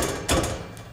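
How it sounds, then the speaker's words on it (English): A hammer strikes the exhaust pipe of a turbo M50-engined BMW E30 with a single sharp metallic ring near the mic, followed by a brief softer knock, with a faint workshop hum behind. "so I'm about to hit that with the hammer."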